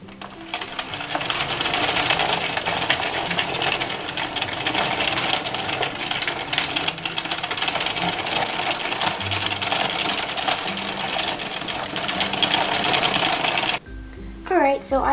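An Addi King knitting machine is hand-cranked, producing a steady, dense clattering whir of needles and carriage that runs continuously before stopping briefly near the end, with a voice talking over it.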